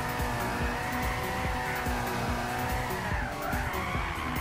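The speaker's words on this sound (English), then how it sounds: "I'm trying to see if I can hold this car and make it keep drifting." Continuous engine roar and screeching tire skid from a car drifting in Gran Turismo 6, steady and loud throughout with shifting engine pitch and no voices.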